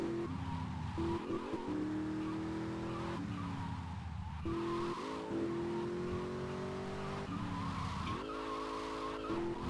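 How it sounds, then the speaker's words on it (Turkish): Game car in GTA Vice City skidding and drifting, its engine revving in rising and falling pitch sweeps with tire squeal, loud and continuous throughout with no talk. "Baksana arabanın yanlaması bile aynı ya."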